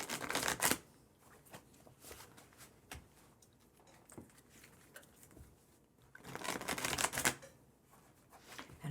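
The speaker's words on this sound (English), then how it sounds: "have been shuffling this deck here." A tarot card deck is shuffled close up in a quiet room, with crisp riffling bursts at the start and again later, and softer scattered card taps and slides in between.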